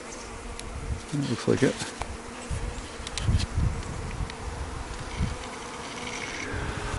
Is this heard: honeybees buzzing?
yes